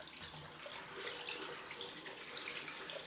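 Cold water runs steadily from a bathroom tap into a sink for a post-shave rinse, a constant close hiss and splash with no one speaking.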